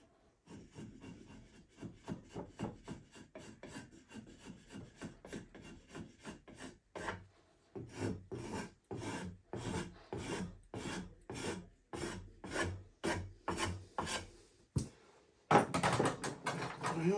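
A hand scraper works across wood in a long run of rhythmic, rasping strokes, each a short scratchy burst with brief pauses between, close and clear, with a short gap partway through and no talk.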